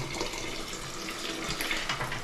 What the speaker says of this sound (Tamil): தண்ணீர் ஊற்றி கொண்டிருக்கிறார்கள்.